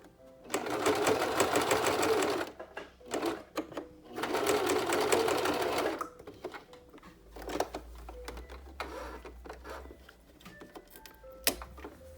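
A sewing machine stitches elastic onto a face mask in two long, steady whirring runs of rapid needle clatter, loud and close, followed by quieter handling clicks and fabric rustling.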